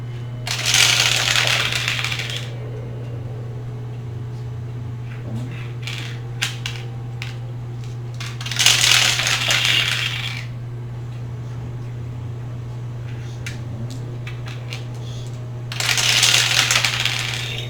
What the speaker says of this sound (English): It's a lot of dice.